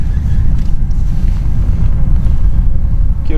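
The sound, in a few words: wind blowing against the microphone on a boat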